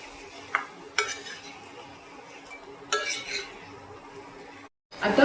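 Dried Bombay duck and potatoes being stir-fried in masala, with scattered clinks and scrapes of a spoon against the pan over a faint sizzle, the sharper stirs coming every second or two and a louder clatter at the end.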